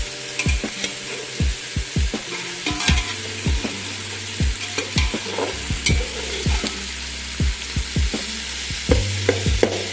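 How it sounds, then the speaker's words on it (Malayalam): Ingredients for a mixed rice dish sauté in a pan over a low flame, a soft continuous sizzle under regular close scraping strokes of a spoon stirring about once a second. "അതുകൂടി ഇട്ട് കൊടുത്ത് അതിൻ്റെ ഒരു പച്ചമണം മാറുന്നത് വരെ ചെറുതായിട്ട് കുറഞ്ഞ ഫ്ലെയിമിൽ"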